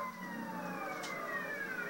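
An ambulance siren in the video game GTA San Andreas wails steadily with a slowly falling pitch. It sounds moderately close over constant background game noise, and no one speaks.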